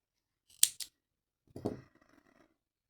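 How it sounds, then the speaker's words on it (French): Scissors snipping crochet yarn while finishing a crocheted Santa Claus head, two quick close blade clicks followed a moment later by a softer rustling snip, otherwise quiet. "Et je peux couper mon fil."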